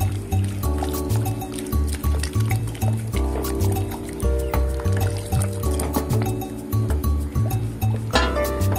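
Liquid pours slowly into a pan over a high flame while the mixture is stirred for a Chinese-style raw mango pickle, with wet trickling and squishing sounds and small clinks beneath steady background music.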